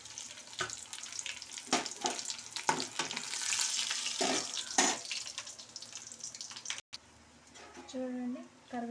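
Dry red chillies and curry leaves sizzle in hot oil as a tempering for mango chutney, a crackling fry with sharp spitting pops, close by, broken off by a brief clatter near the end.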